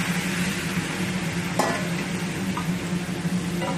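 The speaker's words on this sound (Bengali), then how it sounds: "এখন আমি ট্যাংরা মাছগুলো ছেড়ে দিই।" Small tangra river fish go into a pan with already-fried potatoes, giving a dense, constant close-up sizzle with one sharp clink from a utensil.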